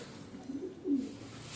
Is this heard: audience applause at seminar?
no